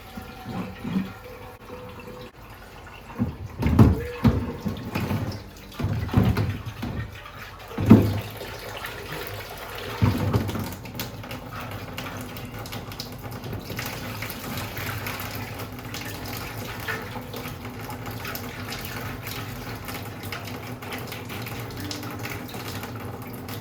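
Water flushing through a rusted Can-Am DS90X gas tank during sealing prep, with sloshing and splashing bursts early, then a steady running rush of water, fairly close and with no talk.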